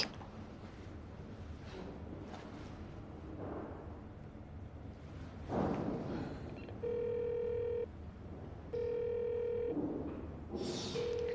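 An unanswered telephone rings in a quiet room, a few short repeated electronic ring bursts at a steady interval over faint, muffled background noise.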